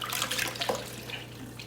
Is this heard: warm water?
yes